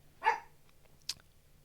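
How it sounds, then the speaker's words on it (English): Dogs bark next door, a single clear bark followed by a fainter, sharper yip a moment later, both heard from a distance with no speech. "You got one barking out the front door, one barking out the back door."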